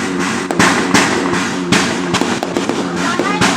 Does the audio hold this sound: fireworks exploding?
yes